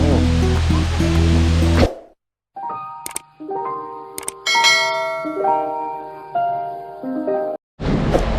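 Loud, dense rushing of water from Tad Yeuang waterfall fills the first two seconds, then gives way to ringing chime-like tones before the roar briefly returns at the end.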